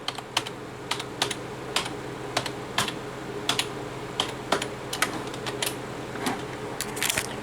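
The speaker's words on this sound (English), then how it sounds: "Gonna have to enter in my stupid password again." Computer keyboard keys tapped in quick irregular bursts while a password is entered, close and crisp over a faint steady room hum.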